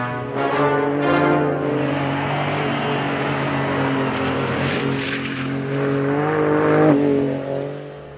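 A 2017 Ford F-150 Raptor pickup drifting, its engine holding a steady loud drone with rising revs and rough tire scrub throughout, swelling near the end before easing off.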